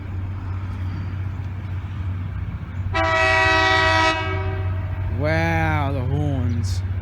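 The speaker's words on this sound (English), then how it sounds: "Now here comes a freight train," A freight train approaching near Boyup Brook sounds its horn in a long steady blast, then a second wavering blast, loud and close over a constant rumble, with someone talking.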